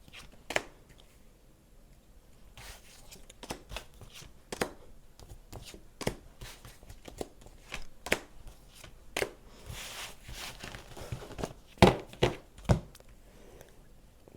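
Tarot cards are shuffled and handled close by in quiet, scattered bursts of soft riffling and light taps. Brief, faint talk comes between them.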